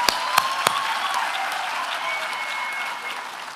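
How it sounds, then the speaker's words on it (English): A graduation crowd at a VUT Human Sciences ceremony breaks into loud, sustained applause, opening with a few sharp distinct claps before settling into a dense, steady wash of clapping. "Can we get a round of applause for all of us?"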